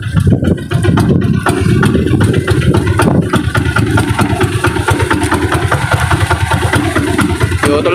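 A boat engine runs steadily and loudly throughout, with a low rumbling drone and a few brief bumps near the start; the engine keeps stalling.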